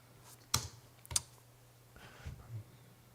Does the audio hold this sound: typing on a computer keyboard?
yes